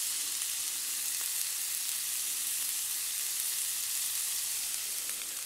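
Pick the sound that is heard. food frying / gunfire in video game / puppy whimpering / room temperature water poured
food frying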